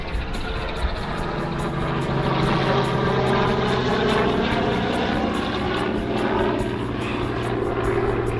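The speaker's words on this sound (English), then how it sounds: "There's a random helicopter flying over us." Helicopter passing overhead outdoors, a loud continuous rotor thrum with rhythmic blade chop and engine drone that holds steady throughout without speech.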